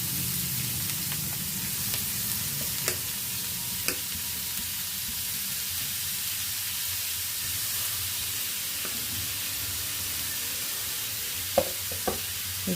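A cabbage, onion, green chili and coconut mixture sizzles steadily in a pan, with a continuous hiss and occasional sharp stirring clicks, close and fairly quiet, with no talking.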